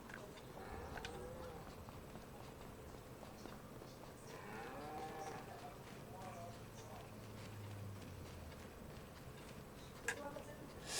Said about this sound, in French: Voilà, on va donner à manger aux vaches.